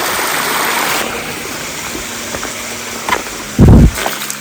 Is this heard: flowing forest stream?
yes